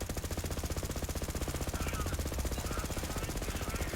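A legendary pistol in Borderlands 3 fires from the hip in a rapid, evenly spaced stream of shots, a dense rattling burst that keeps going throughout at moderate loudness with no talk over it.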